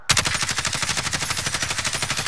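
Rapid automatic gunfire in Call of Duty: Modern Warfare, aimed upward at an enemy UAV, a loud, steady stream of closely spaced shots with no pauses for about two seconds.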